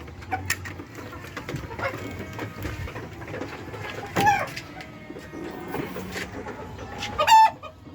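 Chickens of mixed breeds, white and tiger hens with a rooster, cluck steadily and close by in a backyard coop, with two sharper louder calls breaking through near the middle and the end.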